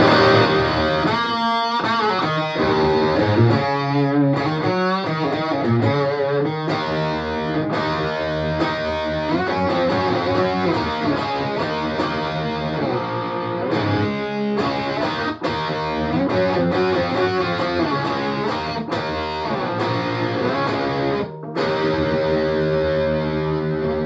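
Loud distorted electric guitar on the bridge pickup plays a continuous lead line with dense sustained notes and chords, driven hard through the lead channel of a G4M GA-20E mini half stack amp, no voices present.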